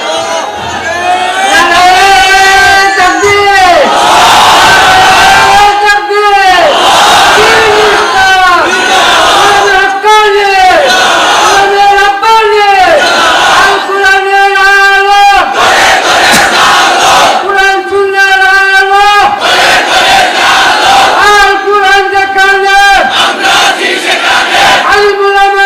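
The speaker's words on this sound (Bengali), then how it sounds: "তোমরাই স্লোগান দাও, তোমরাই তাকবীর বলো" A large crowd at an Islamic gathering chants slogans and takbir in loud, rhythmic unison, with repeated rising and falling vocal calls sustained throughout at full volume.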